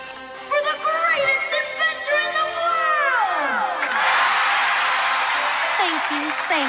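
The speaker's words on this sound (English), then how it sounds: "You may cheer and clap now." Cartoon crowd cheering and whooping rises under a voiced, musical cartoon scene, swelling into broad noisy cheering in the second half.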